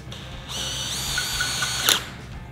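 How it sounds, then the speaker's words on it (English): A power drill drives a GRK Caliburn concrete screw, a steady high-pitched whine that holds for about a second and a half before a brief louder burst near the end as the screw seats, with no talk. "The screws install themselves, as with all GRK fasteners, effortlessly."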